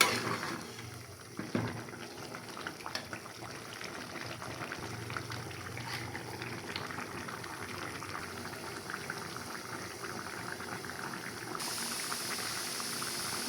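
Bottle gourd and hilsa fish bubble steadily in a cooking pot, a continuous soft boiling texture with small liquid pops, close and moderately quiet, with no voices.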